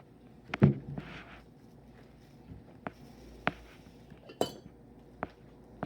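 A metal tablespoon scooping glitter into a bottle, making a few light, scattered clinks and taps spaced over several seconds in a quiet room, with no speech.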